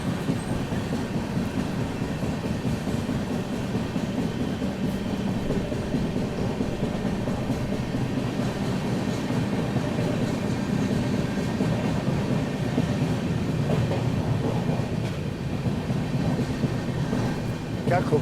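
The Northeast Express rolls steadily along the tracks between Prayagraj and Patna, a continuous rumbling clatter of wheels heard from inside the coach, even and loud from start to finish.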